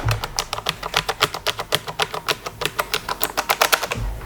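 Rapid typing on an Alienware keyboard with backlit keys, a steady run of crisp, close key clicks in quick rhythm for about four seconds with no talking.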